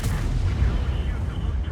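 A single heavy cannon shot from a tank in World of Tanks, a deep booming blast up front that rolls off into a low rumbling tail.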